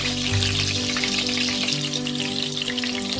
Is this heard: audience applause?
no